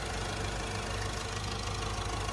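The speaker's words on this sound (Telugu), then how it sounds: "ఇంజన్ మాత్రం ఎక్సలెంట్ ఉందండి" A 2016 Ford EcoSport Titanium diesel engine idles close by, a steady, even mechanical drone with a low rumble and faint rhythmic knock, holding the same level throughout with no talk.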